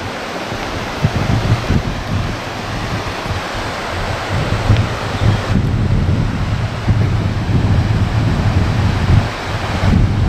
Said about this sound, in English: check this river out. This is the Mint River.